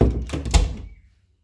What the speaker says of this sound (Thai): แล้วปิดประตูแล้วกัน